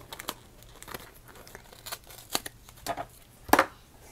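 Scissors snip open a plastic package of Doris sparkle tape in a few sharp, close cuts and crinkles, the loudest burst near the end.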